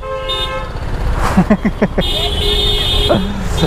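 Car horns honking in rainy Delhi road traffic, several overlapping toots and a longer blare over steady engine and rain noise, with someone talking briefly.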